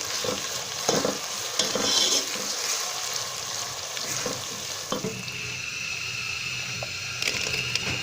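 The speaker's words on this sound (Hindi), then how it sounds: "हम इसको भून लेंगे अच्छे तरीके से जब तक कि लहसुन अदरक की स्मेल ख़त्म हो जाए" Ginger, garlic and spices sizzle in a hot pan for lentil dal while a spoon scrapes and stirs at intervals, with light tapping against the pan.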